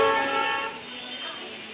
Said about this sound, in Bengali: অনেক জোরে ট্রেনের আওয়াজ আসছে